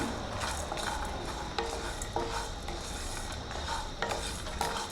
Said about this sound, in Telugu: నువ్వులు కూడా వేసుకొని వేయించుకుని